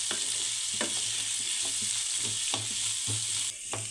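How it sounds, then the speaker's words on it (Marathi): Salted potatoes fry in a pan for a fasting-style potato dish, a steady hiss with repeated scraping stirs at a regular rhythm, close and moderately loud, with no talking. "आता चवीप्रमाणे मीठ, त्याला छान असं मिक्स करून घेऊया, म्हणजे मीठ सगळ्याला लागलं जाईल।"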